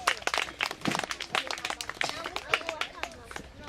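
Applause for children at a children's retreat and social gathering, a brisk burst of many hands clapping close by in a dense, uneven patter with voices mixed in.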